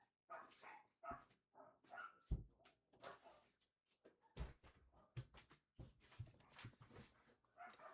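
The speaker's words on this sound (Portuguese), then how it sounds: "Deixa eu ver se esse latido tá pegando no áudio." A dog barks outside a window in irregular bursts of sharp, fairly loud barks with short gaps between them, and one or two whimpering yips mixed in.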